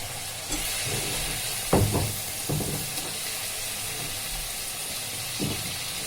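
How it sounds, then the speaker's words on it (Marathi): Chopped brinjal drops into fried onion and tomato in a pan for a black-eyed pea masala, giving a steady soft sizzle with a few louder stirring knocks and scrapes. "मी ह्याच्यात 4 वांगी घेतली बारीक कापून, ते घालते"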